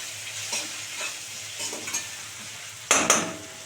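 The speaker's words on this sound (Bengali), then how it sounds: "এবারে কুচানো কলই শাকটা দিয়ে দেবো।" Chopped kalai greens tossed into a pan of frying potatoes and stirred, giving a steady sizzle with soft spoon scrapes and a sharper burst of hissing and clatter near the end, no voices.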